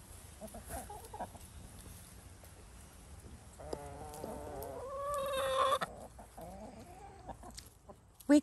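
Chickens cluck near a backyard garden coop that has just been moved, soft scattered clucks building into a louder drawn-out call before trailing off, with no talk.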